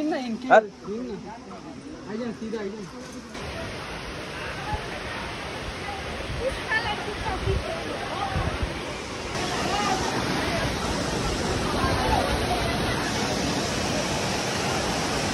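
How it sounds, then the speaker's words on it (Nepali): A constant roar of rushing, falling water from a waterfall fills the air, broad and steady, with voices talking briefly at the start. "यही हो झरना"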